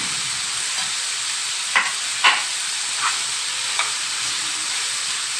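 Chopped onions fry in a pan with a continuous hiss of sizzling, joined by a few brief, sharp stirring scrapes spaced several seconds apart.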